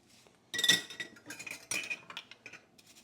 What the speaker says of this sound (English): The brush is really scrubbing.